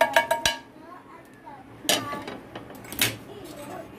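Roasted spices are scraped out of a pan onto a plate, with a quick burst of metallic clinks and taps at the start followed by a few more scattered clanks and scrapes close by.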